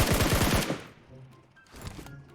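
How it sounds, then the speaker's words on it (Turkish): Gun on a glider in a mobile video game fires a rapid burst of automatic shots, loud and close, then fades into a quieter mechanical hum with a few softer pops. "aynı şekilde silah atışını da yapabiliyoruz görüyorsunuz"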